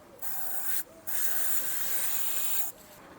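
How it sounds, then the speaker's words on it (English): Brake cleaner sprayed onto the gearbox of a 2008 Smart Fortwo 451, heard as two steady hissing blasts up close, a short burst and then a longer one with a brief pause between, and no talk. "just clean off any residue with a blast of brake cleaner"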